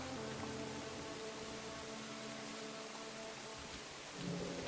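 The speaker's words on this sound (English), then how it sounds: "The rain gets louder." Steady, dense rain pours down with a constant hiss, swelling a little louder near the end.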